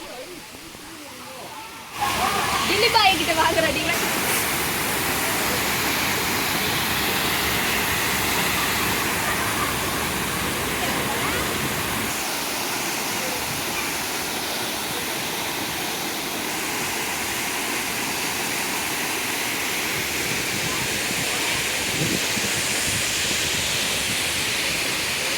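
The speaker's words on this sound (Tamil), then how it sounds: "பார்த்தீங்கன்னா நம்ம அருவி வந்தாச்சு காய்ஸ்." The Jalagambarai waterfall pours in a steady, loud, broadband roar that starts abruptly and continues unbroken, close by and filling the whole scene.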